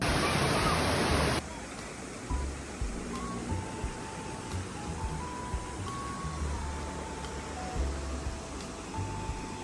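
The Pulunan River flows in a steady, broad rush of water that fills the whole stretch evenly, with faint tonal sounds drifting over it.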